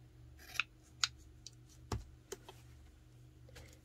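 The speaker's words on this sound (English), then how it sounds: "my scissors and just cut it down," A few quiet, crisp snips of scissors cutting fabric, spaced irregularly, close by in an otherwise hushed room.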